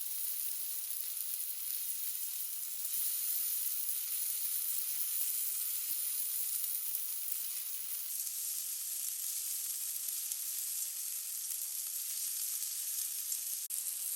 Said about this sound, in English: Mix the meat with black pepper and stir fry for about 20 seconds more.